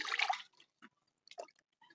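Cassava roots being pushed under water in a basin while making akpu, a loud splashing burst at first, then a few brief faint wet drips and sloshes with quiet gaps between.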